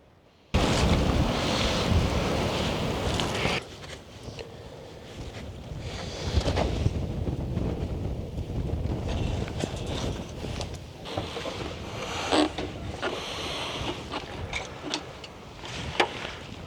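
Strong wind gusts of up to 40 mph buffet a truck camp at night, roaring and rushing against the microphone in loud waves that swell and ease, with no voices.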